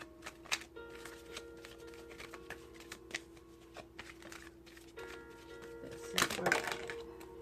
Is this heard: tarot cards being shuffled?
yes